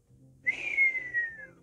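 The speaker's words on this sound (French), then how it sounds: "ça ne se fait pas de siffler" A person whistles one clear, sustained note that slides gently downward for about a second, heard close and alone.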